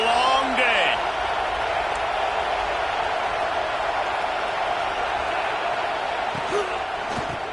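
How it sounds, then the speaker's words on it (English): A football stadium crowd roars in a broad, loud, sustained wash of cheering, with a few thuds and whistle-like tones poking through. "This crowd, full throat, spreading the eardrums"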